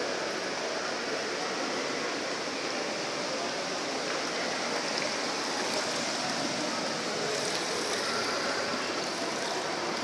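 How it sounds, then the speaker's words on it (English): A small water fountain splashes steadily, a continuous broadband wash of falling water that stays at an even level throughout, with no voices over it. "I just take this water fountain, small one."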